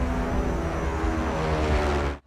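A reconnaissance drone in the film The Ambush flies overhead with a steady propeller-engine drone, loud and continuous, before cutting off abruptly at the end.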